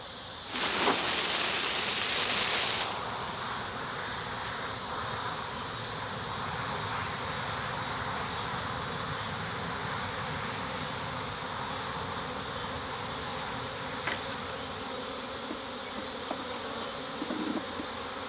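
A wild bee swarm hums in a dense, steady drone at close range, with a louder burst of buzzing at the start before settling into a constant outdoor hum.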